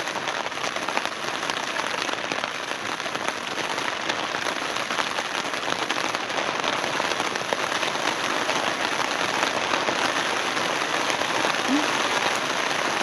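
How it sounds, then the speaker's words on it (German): Steady rain patters densely on a tent at a campsite, a continuous close, loud drumming that holds unchanged throughout with no voices. "Es regnet, wir sitzen im Zelt"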